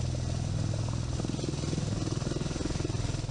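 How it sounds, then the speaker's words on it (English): An MV-22 Osprey tiltrotor aircraft's rotors throb in a loud, close, rapid pulsing beat over a deep engine drone. "The introduction of the MV-22 Osprey tiltrotor aircraft has introduced a new dimension of logistical support"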